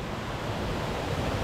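A rainforest waterfall at Doovili cascades in a dense, constant roar of rushing water, loud and unbroken.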